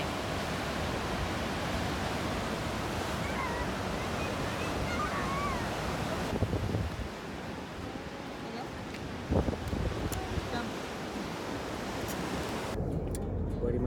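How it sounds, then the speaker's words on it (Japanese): Ocean waves at the seaside in Itoshima, Japan: a continuous broad wash of surf mixed with wind buffeting the microphone, steady and fairly loud throughout with a brief thump near the end. "綺麗だね海。"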